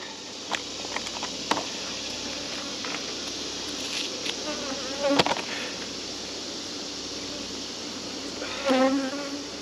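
Honeybees buzz steadily around an open hive with a high mite count during a summer inspection, a dense close drone with a few brief louder swells and light knocks of handling.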